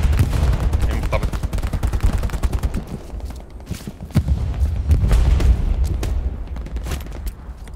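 Gunfire in the World War II shooter Hell Let Loose crackles in rapid, dense bursts of close shots with heavier booms mixed in, continuous and loud, while players talk over it.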